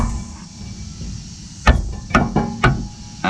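Hammer giving light taps to drive a Steeda IRS bushing into place on a 2019 Ford Mustang GT, four or five sharp close taps at uneven intervals after a quiet start.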